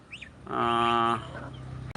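One of three young farm-bought chickens gives a single loud, drawn-out squawk of about half a second, close up, with quieter cheeps before it and low background noise after.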